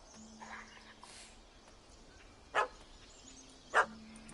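A puppy in The Witcher video game gives two short, sharp barks a little over a second apart against a quiet ambient background with a faint steady hum.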